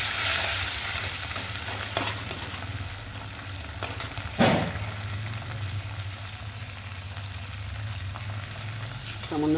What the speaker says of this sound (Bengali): টমেটোটা কষে নিলাম।